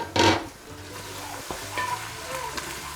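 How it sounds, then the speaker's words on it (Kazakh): Minced meat frying with onions in a pan, a steady close sizzle with a loud scraping stir near the start and lighter utensil scrapes and clinks afterward, no talking. "Фаршымыз бір 5-6 минут көлемінде пиязбен бірге қуырылады."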